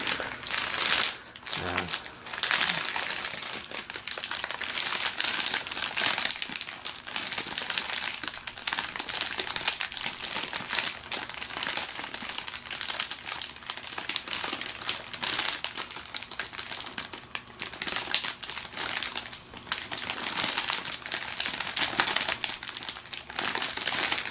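Halloween candy wrappers and bags, including a large bag of Snickers, crinkle and crackle continuously up close as they are handled and sorted, with soft talking underneath.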